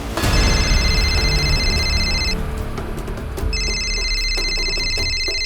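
A loud electronic phone ringtone chirps in two bursts with a short gap, close and prominent over a busy background.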